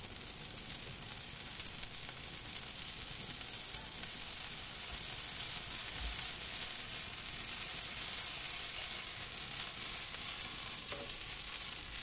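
Steady hiss of a pan sizzling over high heat while a flambé burns off its alcohol, a continuous loud broadband frying sound with no voices.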